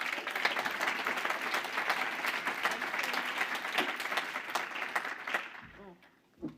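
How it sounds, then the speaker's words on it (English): An audience applauds steadily for several seconds, the clapping thinning and fading out near the end as a voice begins to speak. "Let's give her a round of applause."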